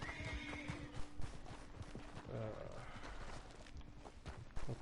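A horse in Red Dead Redemption 2 whinnies over a busy game soundscape, with hoof clip-clops and scattered thuds throughout and faint voice-like sound mixed in.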